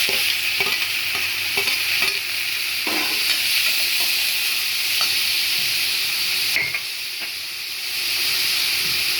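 Tomatoes hit a pan of frying onion, garlic and chilies for tomato chutney, giving a steady close hiss and sizzle broken by scattered scraping stirs and clinks.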